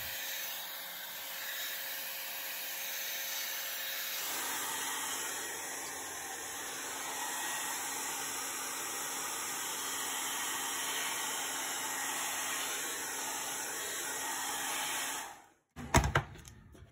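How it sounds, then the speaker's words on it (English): Hair dryer blowing on wet paper artwork to flatten it, a steady close whooshing roar that shifts in tone partway through, then cuts off near the end followed by a brief handling clatter. "I will hit it with a hairdryer"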